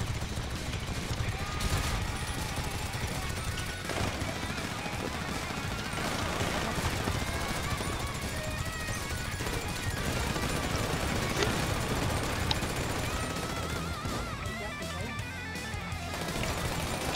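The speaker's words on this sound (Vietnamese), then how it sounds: "Lão Tôn lấy cái súng mình mới đưa ra bắn nè" Gunfire from a newly handed-out gun in GTA V rattles in dense, continuous bursts over a loud, busy game mix, with occasional voices underneath.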